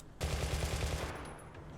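Aircraft machine guns test firing in War Thunder, a sustained rapid burst of dense, loud gunfire rattling continuously and tapering slightly toward the end.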